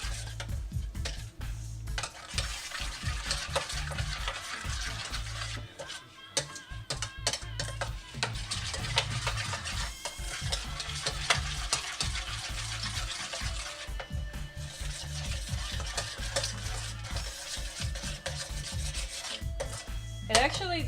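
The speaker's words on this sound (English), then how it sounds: "the recipe says to stir until it is glossy and thick" A spoon rubs and scrapes steadily in a pan of thickening cannabis-infused mixture, a continuous close rasping scrape with brief pauses and a faint low hum behind it.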